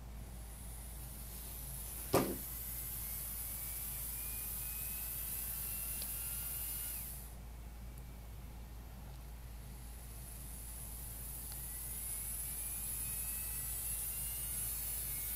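A DC motor run by Raspberry Pi PWM gives off a faint whine that rises and settles over a steady electrical hum, with one sharp click early on.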